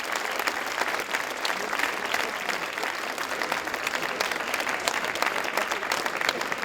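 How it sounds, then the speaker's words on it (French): Sustained ovation from an audience at the Charles Proust chocolate contest award at the Salon du Chocolat in Paris, dense steady clapping that holds its level throughout. "que je vous propose d'applaudir une fois de plus très très fort"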